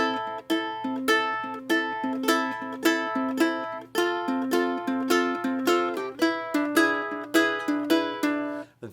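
Ukulele fingerpicked in a steady claw pattern on Believer by Imagine Dragons, the thumb alternating on the third string with clear plucked notes in an even rolling rhythm, played solo and close.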